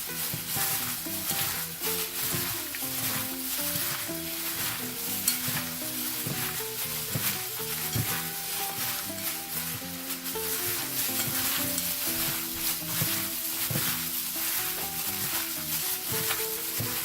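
Fermented gundruk greens with oil and salt are mixed and sizzle in a pan, a dense continuous crackle with steady stirring and scraping throughout.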